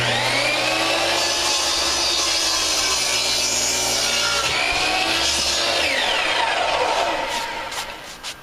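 Power chop saw cutting through deck rail wood during a deck rail repair, a loud steady whine and rasp that holds for several seconds before winding down near the end.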